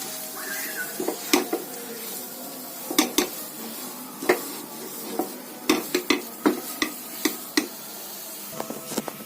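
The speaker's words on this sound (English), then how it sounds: "Now mix it." A spoon stirs coconut ladoo mixture with milk powder in a pan on the stove, giving irregular scraping clinks and taps against the metal over a faint background, with no talking.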